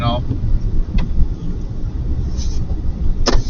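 A gas-powered pickup truck plowing snow, its engine giving a steady low rumble throughout, with a couple of faint short squeaks and muffled voices beneath.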